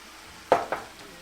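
Chilli ingredients in a pan give two short, close bursts of sizzle and stirring, the second fainter, over a quiet background.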